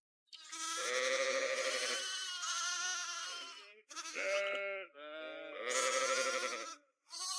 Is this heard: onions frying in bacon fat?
no